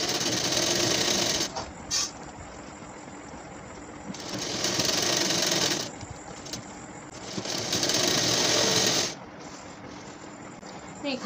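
A sewing machine stitches a fall onto a saree in three long, loud runs separated by short pauses, its motor whirring close by.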